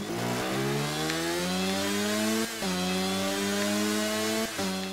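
Motorcycle engine from a Ducati racing video game, a steady loud buzzing drone that climbs in pitch through repeated gear shifts, with brief dips between shifts and no talk.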